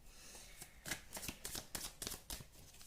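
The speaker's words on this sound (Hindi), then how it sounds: "मुझे एक कुछ कार्ड्स और निकालने दो" Tarot cards being shuffled and drawn, a steady papery riffling with soft repeated flicks and slaps, close and quiet with no talking.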